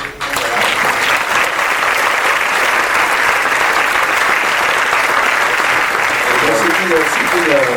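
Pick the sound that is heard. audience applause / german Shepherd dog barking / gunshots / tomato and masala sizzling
audience applause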